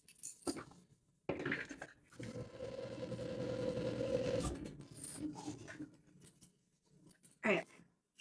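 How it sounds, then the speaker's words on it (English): A sewing machine runs a steady stretch of top stitching on a fabric garment, close and fairly quiet, preceded and followed by short bursts of handling and clicks. "That one is sewn on, so now we top stitch."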